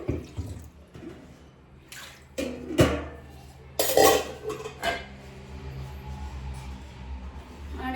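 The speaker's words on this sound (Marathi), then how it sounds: "बाटली भरून घेते" Water runs from a tap into a bottle in a home kitchen, with sharp clinks and knocks of vessels and utensils breaking up a steady trickle and gurgle, close and fairly loud, no talking.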